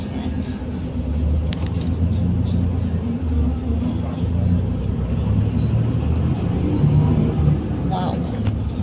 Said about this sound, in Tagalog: This is tricycle.